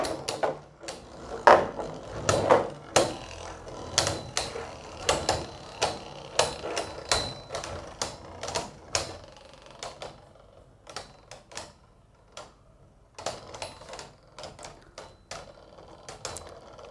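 Beyblades, including Astral Spriggan and Quattro-0, clash in a battle stadium with a flurry of sharp plastic clicks and knocks, dense at first, then thinning into scattered hits and spinning rattle.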